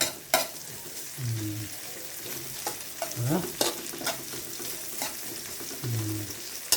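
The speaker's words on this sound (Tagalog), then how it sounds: "Sangkot sa natin yung tuyo sa ating bawang, luya at sibuyas." Dried fish stir-fried with garlic, ginger and onion in a pan, giving a soft steady sizzle broken by a few scraping stirs of the spatula and occasional clinks, close and fairly quiet.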